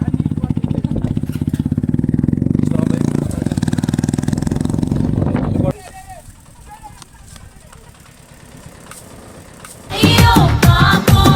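Motorcycle engines rumble loudly and then quiet to a low idle before revving up again, with voices talking over the engine noise.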